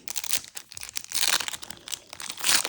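Foil packs of Bowman Basketball trading cards being ripped open by hand, with repeated close crinkling and tearing bursts of wrapper, loud and continuous, no talking.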